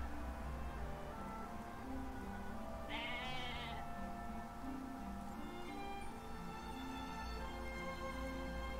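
A goat bleats once, a short wavering call from the Atelier Ryza video game, set over a steady backdrop of soft game music and ambience.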